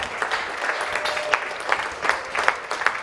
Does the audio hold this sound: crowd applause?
yes